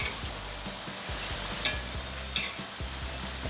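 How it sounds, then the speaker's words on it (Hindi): Bread pakora sizzles in hot oil as it is flipped to fry on both sides, a steady bubbling hiss broken by a couple of sharp clinks and a spoon stirring the pan. "ये देखिए, दोनों तरफ से उलट पलट के करेंगे फ्राई।"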